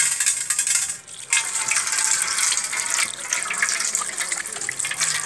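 Water pours and splashes steadily while someone is being bathed, a continuous close gushing stream that breaks off briefly before flowing on.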